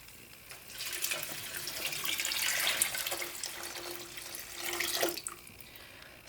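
Water is poured from a container into a hot pan of lentil soup, making a steady rushing splash that swells for about four seconds, then tapers off with a final gurgle.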